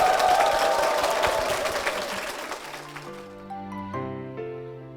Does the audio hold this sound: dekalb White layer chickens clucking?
no